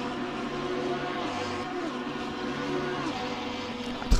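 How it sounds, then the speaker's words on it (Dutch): Lamborghini V10 race car engine from a Super Trofeo race at Monza, a steady droning roar with shifting harmonic tones, heard at a moderate distance and held at an even level throughout. "Geluid is mooi, hè? Even eerlijk zijn voor de 10 cilinders."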